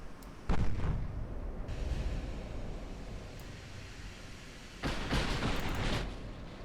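Two heavy booms from 14-inch naval guns in Ultimate Admiral: Dreadnoughts, each a loud cannon blast trailing into a long rolling rumble over steady sea and wind noise.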